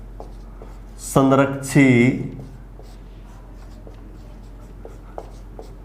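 A teacher writes on a board during a physics lesson, leaving faint, scattered taps and scratches; a person speaks briefly near the start, then the quiet marking continues.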